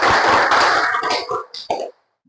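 An audience in Indonesia performs the rhythmic NKRI clap, a run of loud, closely spaced hand claps in a dense burst that breaks into a few separate accents before stopping abruptly.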